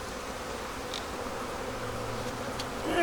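Honey bees buzz steadily at an open hive in winter. The drone is moderate and continuous for the whole clip, and no one talks.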